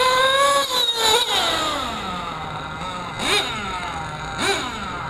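A HoBao Hyper VS nitro RC buggy with a Hyper 21 engine screams at wide open throttle in repeated bursts, the high-pitched whine rising sharply, dropping to idle and climbing again several times.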